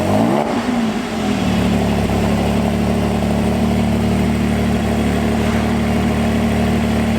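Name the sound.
Porsche GT4 engine with new Milltek exhaust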